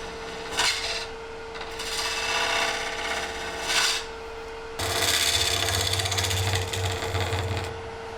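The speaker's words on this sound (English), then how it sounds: "With a steady hand at the chisel and hours of turning on the lathe, Daryl shaves the rough blocks" A rough wood block, including burl and resin, is shaved by a chisel on a spinning lathe, giving a close, steady rasping scrape in bursts that gives way to a louder continuous grind with a low hum beneath.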